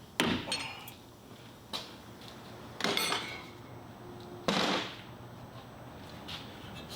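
A dead blow hammer strikes a Toyota Camry axle nut during lower control arm work, giving three or four sharp, close metallic blows spaced out against a quiet garage background.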